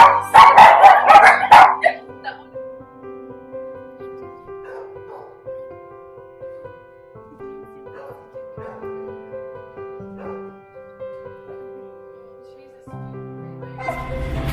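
Dogs bark in the outdoor dog yards of an animal shelter, a burst of loud close barks at the start, then scattered yips and whimpers over a quieter tonal background, with more barking near the end.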